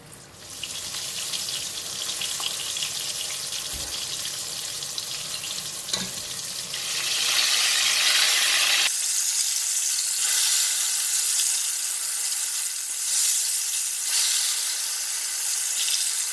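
Mackerel, floured after a fish-sauce marinade, sizzles steadily in hot oil in a pan, a constant crackling hiss that grows a little brighter partway through, with no talking.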